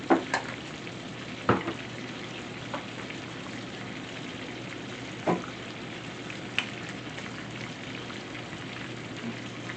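Steaks searing in a pan of very hot butter, salted heavily, give a steady close sizzle and crackle throughout, with a few sharper pops and spits standing out over the constant frying hiss.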